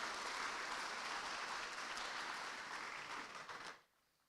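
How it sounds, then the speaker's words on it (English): Audience applause at a launch event for the 750XL-II SuperPac aircraft, steady dense clapping heard from a distance that fades out abruptly near the end. "So, Stephen, can I get a round of applause, please?"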